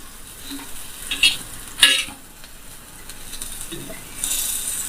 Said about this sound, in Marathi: आणि बाकी उरलेले मासे तळत ठेवलेले आहेत